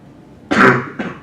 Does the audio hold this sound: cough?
yes